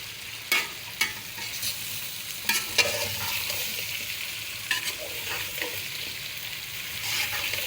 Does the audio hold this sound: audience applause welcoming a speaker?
no